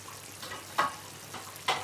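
Paella with chicken and seafood simmers in a pan as sauce is gradually added, giving a soft steady sizzle with a few brief louder stirring or scraping bursts close by.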